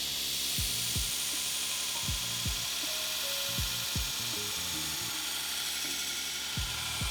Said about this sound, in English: change over to a 36 grit belt and rough in the bevel